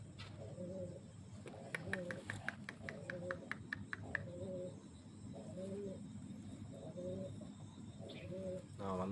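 Kadhar Java pigeons coo in short, repeated soft calls during a midnight feeding, faint against a quiet night background with chirping insects.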